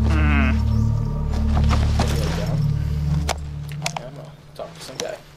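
A goat bleats in Metal Gear Solid 3: Snake Eater, a harmonic wavering cry near the start, set over steady game ambience and music with clicks and small rattles, while someone talks over it.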